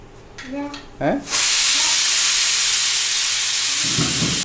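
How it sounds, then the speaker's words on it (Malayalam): A few brief voice-like sounds, then a pressure cooker cooking beef curry lets out its third whistle, bursting into a loud, sustained steam hiss that continues to the end. "3 വിസിൽ കേട്ടു"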